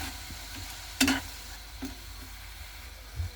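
Shrimp seasoned with turmeric and salt sizzle softly in a pan, with a sharp stirring scrape near the start and a couple of lighter clinks later, no voices.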